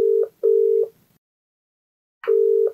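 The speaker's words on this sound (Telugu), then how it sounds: "మరి కాల్ చేసేద్దామండి." Telephone call being placed: two short ringback tones close together, a pause of silence, then a third tone, clean and clear with no talking.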